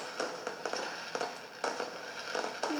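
In the video game Danganronpa 2, fireworks detonate inside a factory as a string of crisp pops and crackling bursts at uneven intervals, moderately loud and free of speech.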